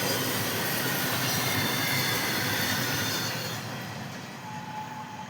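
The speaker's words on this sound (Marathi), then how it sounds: "हा बघा रेल्वे कसं चालली नसते गुंग गुंग गुंग गुंग करीत" A train rumbles along the tracks with a steady roar and faint wheel squeal, fading slightly toward the end.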